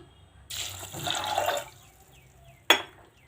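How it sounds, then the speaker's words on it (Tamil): Water pours into a pressure cooker in a short gush for about a second, then fades, followed by a brief metallic clatter close by. "குக்கரில் போட்டுட்டு தண்ணி ஊற்றிக்கலாம்"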